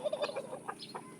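A person imitates a turkey's gobble to call backyard chickens to banana feed, a quick, faint warbling run of short throaty notes with no talking.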